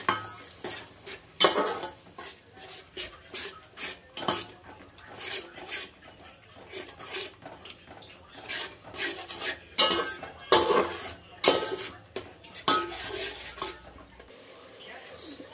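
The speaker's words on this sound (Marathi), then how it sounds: "त्याला आहे ना हलवून घ्यायचं, सतत हलवत राहायचं ह्याला." Egg biryani being stirred in a pot with spice masala, a steady run of scraping, clinking strokes against the metal, close and fairly loud, with faint sizzling underneath and no talking.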